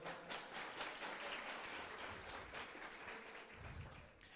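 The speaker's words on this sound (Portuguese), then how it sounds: "Pode aplaudir." A church congregation applauds, a faint, steady wash of clapping heard from a distance with no voices over it.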